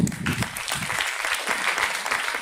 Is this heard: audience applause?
yes